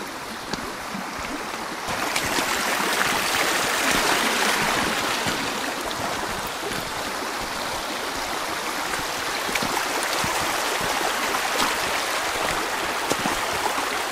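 A river stream at Cooildharry on the Isle of Man flows steadily, a close, continuous rush and babble of water that holds at an even level throughout, with no voices.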